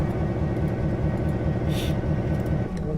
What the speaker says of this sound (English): Let's get the train moving.